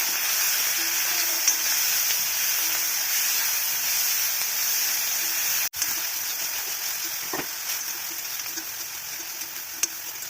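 Sliced onions fry with salt in a pan, giving a steady, fairly loud hiss and sizzle with an occasional scrape from stirring, and no one speaking.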